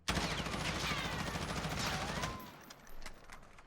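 Rapid automatic fire from a stock M4 rifle in Warzone, a loud continuous burst for over two seconds that stops abruptly, followed by faint echoes and a small trailing sound.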